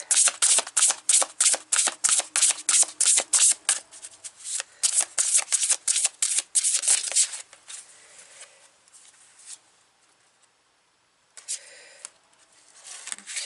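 Oracle cards shuffled by hand, a rapid run of crisp riffling bursts in a steady rhythm that slows, a quieter stretch of soft rubbing, then one more brief shuffle near the end, close and alone without talk.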